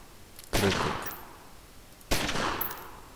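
Two heavy gunshots ring out in the gangster strategy game Omerta: City of Gangsters, each a sharp blast with a decaying tail, spaced about a second and a half apart.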